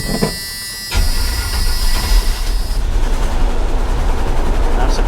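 A 1985 GMC C1500 Sierra pickup, just fitted with a new fuel tank, cranks briefly and then catches, its engine settling into a loud, rough, close-up running rumble.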